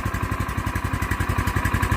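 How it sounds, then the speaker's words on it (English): A small gasoline engine powering a sawmill idles steadily just after starting, its rapid even put-put firing loud and close with a light mechanical clatter, no voices. "fired right up. It's idling fine."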